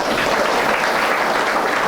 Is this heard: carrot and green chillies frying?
no